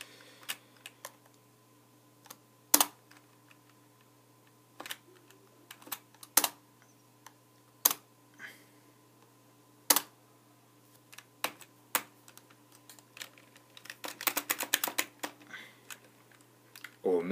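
Computer keyboard keys pressed in scattered single taps and short bursts, ending in a quick flurry of rapid typing, close and fairly crisp over a steady low hum, while playing a NASCAR racing game.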